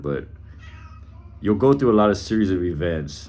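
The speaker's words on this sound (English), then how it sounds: "Oh, excuse, that's my cat." A house cat meows twice, loud and close, with drawn-out, wavering cries over a man's ongoing speech.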